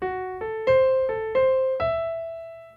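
Six clear plucked notes rising and shifting in a broken-chord pattern, each ringing out before the next, the final note sustaining and fading.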